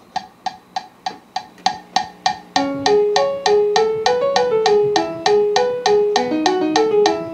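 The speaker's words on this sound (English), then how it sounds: "All the guitar parts and stuff were all on this little piano thing." A MIDI piano reference track built in Noteworthy Composer, standing in for the guitar parts: clipped, evenly spaced synthetic piano notes in a steady rhythm that shift into a busier, sustained melodic line, playing alone and fairly loud.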